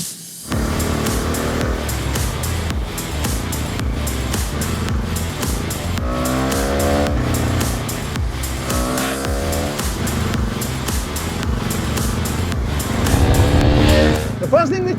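Bajaj Dominar 250 motorcycle ridden on an open road, its engine note rising and falling through gear changes, loud and close throughout.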